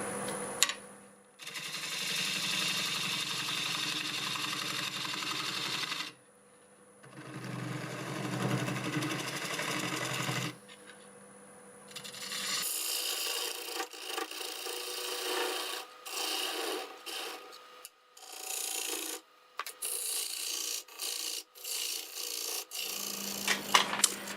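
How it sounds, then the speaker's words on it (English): A bowl gouge scrapes and hisses against spinning maple on a wood lathe at about 670 RPM in long bursts, with brief pauses between cuts and the motor humming underneath. "I'll be using a 1/2 inch bowl gouge. About 670 RPM."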